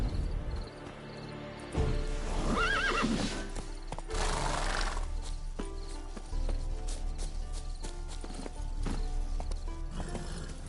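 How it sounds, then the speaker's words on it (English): A horse in The Witcher whinnies once, a rising, wavering neigh, then its hooves clip-clop in a steady walking rhythm close by for several seconds. "Bloody fine mount."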